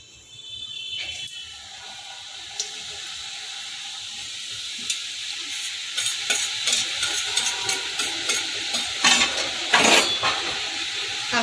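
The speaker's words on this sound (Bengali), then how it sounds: "কড়াইতে রিফাইন অয়েল বসিয়ে দিয়েছি এবার এগুলোকে দিয়ে দেবো" Kucho nimki, small cut pieces of dough, dropped into refined oil in a kadai and frying, with stirring clatter and a steady sizzle that builds and grows louder toward the end.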